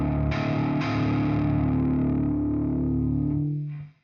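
A bass guitar played through an amp simulator with moderate distortion sounds a sustained, gritty, palm-muted chord that rings loud and steady for several seconds before being cut off and fading.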